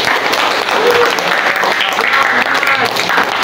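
Applause from a seated audience for a student group that has just presented in a classroom learning session, a steady dense clatter of many hands filling the whole stretch, with some speech mixed in.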